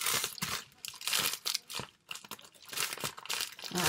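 Crinkly plastic rustles and crackles in repeated bursts as a packet is tugged and pulled at, close by and fairly loud.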